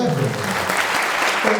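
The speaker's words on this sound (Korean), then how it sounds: "박수 한번 주세요." Studio audience at a Korean talk show breaks into loud, close applause, a brief burst of many hands clapping evenly while a voice sounds faintly underneath.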